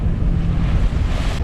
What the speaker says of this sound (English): We are getting some waves now.